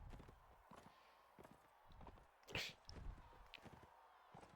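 Horse hooves clip-clop in a steady walking rhythm during mounted combat in the Mount and Blade Warband video game, moderately loud, with a brief sharp clash near the middle.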